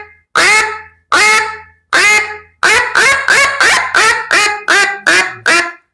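A wooden duck call imitates a mallard (grey duck). It gives loud, close, nasal quacks: three spaced calls, then a rapid descending run of about eight quacks.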